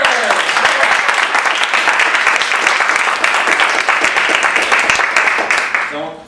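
Dense, loud applause from an improv comedy audience greets a performer coming up on stage, steady for about six seconds before fading quickly at the end.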